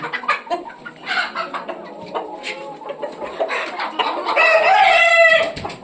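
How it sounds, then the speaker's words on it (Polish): Roosters in a backyard flock of free-range hens, including a small Polish bantam cockerel, crow loudly and repeatedly, with a long crow swelling near the end over clucking hens. "nie da się nic powiedzieć, bo tak pieją"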